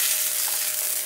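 Steady bright sizzle of egg frying in a pan, a continuous close hiss with no talk over it.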